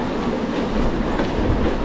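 Local train at a city railway station in Frankfurt, a steady rumbling roll with clattering wheels on track, close and continuous.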